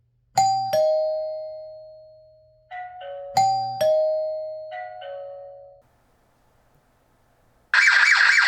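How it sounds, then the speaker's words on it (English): Existing home wired chime rung by a Botslab Video Doorbell 2 Pro, playing two-tone ding-dong strikes that ring out and decay, repeating twice, followed by a burst of loud noise at the end. "it triggers my home's existing chime"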